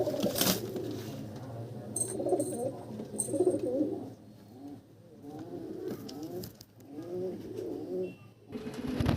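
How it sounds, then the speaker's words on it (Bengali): Soft, throaty cooing of pigeons repeats in low rolling phrases, close by, with a faint higher chirp and light background noise. "দুটো পায়রাকে আমি ছেড়ে সব করাচ্ছি খোপের মধ্যে"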